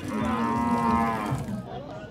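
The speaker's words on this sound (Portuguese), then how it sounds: "O Lulinha tá com vacas e vacas de qualidade" Nelore cattle at a livestock fair in Altinho, Pernambuco, give one loud, close, drawn-out moo that fades at the end, with no talking.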